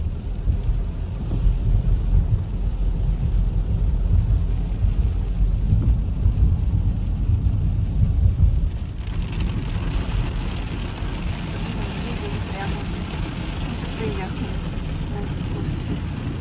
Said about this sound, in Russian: О, ливень, блин.